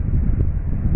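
Strong wind buffets the microphone outdoors where workmen are busy, producing a dense low rumbling roar throughout a single second with no voices.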